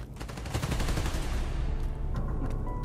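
Rapid automatic gunfire bursts in Spider-Man: Miles Morales, a loud, close stream of overlapping shots rattling on for a few seconds without pause.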